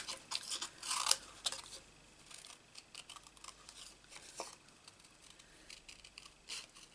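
Paper pieces being cut out for card-making with a Stampin' Up stamp set, giving soft, close snips and crisp rustles in irregular bursts, louder in the first second and quieter afterward, with no talking.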